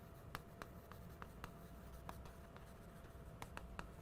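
A teacher writes on a classroom board during a grammar lesson, producing a series of faint, irregular taps and short scratching strokes with no talk.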